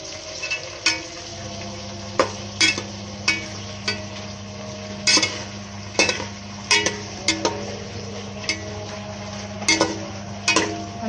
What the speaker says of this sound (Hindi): अब हम इसमें मटर और आलू को अच्छे से फ्राई करेंगे